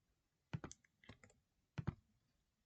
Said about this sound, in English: a bit of typing never hurt anyone